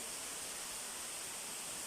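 Wigmore Falls in the Cook Islands pours with a constant, dense hiss of falling water amid forest, unbroken and fairly close, with no voices.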